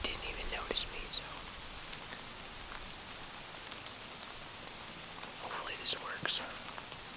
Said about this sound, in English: And it's been raining like this whole time